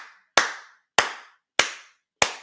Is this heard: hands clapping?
yes